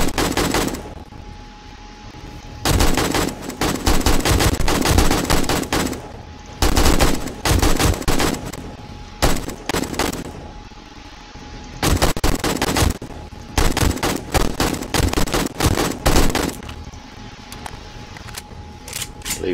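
Gunfire during horde night in the 7 Days to Die video game, loud sustained automatic bursts in long rapid volleys separated by brief pauses, with little talk.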